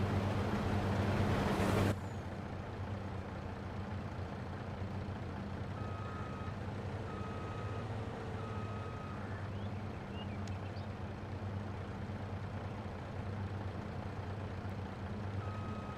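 A truck in Farming Simulator 22 rumbles steadily with a low engine drone, a loud burst at the start, then a series of evenly spaced reversing beeps sounding over the engine noise.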